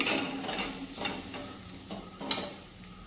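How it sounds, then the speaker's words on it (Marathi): Green chilies with salt, alongside peanuts, being stir-fried in a pan, with a steady low sizzle and rhythmic scraping strokes of a spatula about every half second and one sharper clack near the end. "आता ही जी मिरची टाकलेली आहे ती व्यवस्थित परतून घेऊ."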